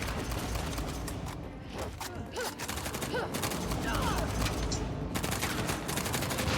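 Rapid gunfire bursts from Uncharted: The Lost Legacy, the video game, keep up dense, loud, continuous shooting and impacts across the whole stretch, with no clear pauses between volleys.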